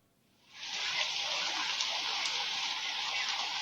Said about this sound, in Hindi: मुंबई में अभी भी तेज बारिश हो रही है।